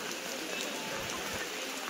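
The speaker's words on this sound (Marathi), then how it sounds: "जेव्हापासून घरातून निघलो तेव्हापासून पाऊस सुरू आहे आत्तापर्यंत अजून चालूच आहे." Steady rain pours down at the Trimbakeshwar Jyotirlinga temple, a dense, even hiss of drops striking surfaces that continues unbroken and fairly close throughout.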